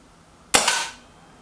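A single Kral NP02 air rifle shot fired in a target-shooting match: one sharp, loud crack that starts suddenly and trails off into a short fading echo, with quiet before and after.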